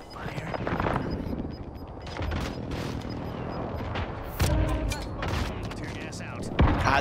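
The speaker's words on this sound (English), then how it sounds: "Enemy precision airstrike." Precision airstrike explosions and gunfire rumble and crack through a Call of Duty Warzone match, with dense booming bursts layered under players' voices.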